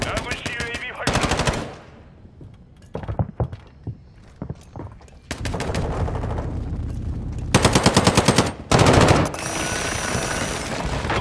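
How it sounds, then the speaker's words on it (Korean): A decoy grenade in Call of Duty: Modern Warfare II goes off, giving loud bursts of rapid automatic-style gunfire separated by pauses and scattered thuds, close and harsh, with no talking. "디코이 터졌다."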